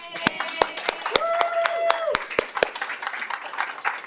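At a school board of trustees public meeting, an audience applauds award recipients with distinct, uneven hand claps that build and then thin out, while a voice speaks over them.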